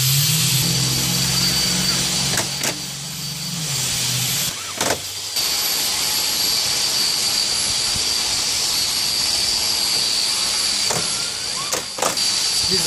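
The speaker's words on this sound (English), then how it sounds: "he's in the grinding phase right now" A power grinder runs continuously in the background of a garage, a steady high whine with a few short interruptions throughout.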